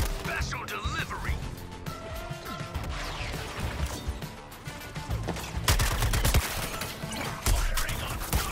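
Gunfire and crashing impacts in the Suicide Squad: Kill the Justice League video game, dense and continuous under busy game sound, with louder bursts toward the end and talk mixed in.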